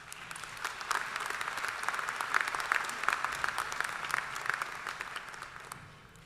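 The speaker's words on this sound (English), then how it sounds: "Give yourselves a round of applause." Graduates applauding at a Missouri Western State University winter commencement ceremony, a broad, steady wash of clapping from a large crowd heard at a distance, swelling slightly and then tapering off.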